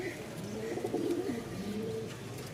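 A single female pigeon of a Rajshahi breed cooing close by, soft low throaty coos repeating over a faint steady background.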